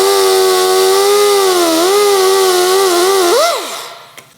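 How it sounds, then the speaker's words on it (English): Cutoff wheel slicing through a taped part during an Evo 8 restoration: a loud, steady high-pitched whine holding for over three seconds, dipping and wavering in pitch as it bites, then winding down and fading out. "easiest way to cut with the cutoff wheel"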